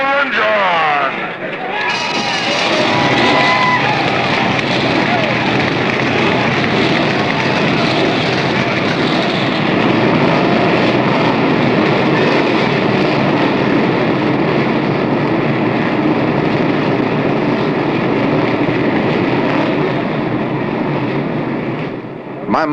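A field of 1976 NASCAR stock car V8 engines at Rockingham fires up and runs in a dense, loud, continuous roar from the start onward, with crowd noise mixed in.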